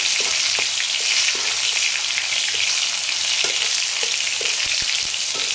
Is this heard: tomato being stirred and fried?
yes